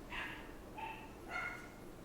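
A dog barks and yips indoors in three short, faint bursts over a steady background hiss, somewhat distant from the microphone.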